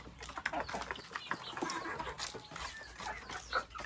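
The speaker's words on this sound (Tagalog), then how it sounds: "Manok." Several chickens cluck and squawk close by in a busy, continuous jumble of bird calls, with sharp bursts now and then.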